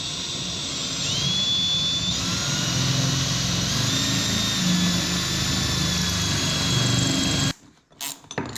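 A power saw making a dry cut on plumbing material, a loud steady whine with shifting high tones running for about seven seconds before stopping abruptly, followed by brief clattering.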